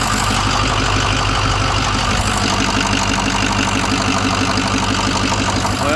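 A 2007 International 4200 truck that sat unused for over five years, with an oil leak, idles steadily after starting, a continuous loud diesel rumble with a rough knocking texture throughout.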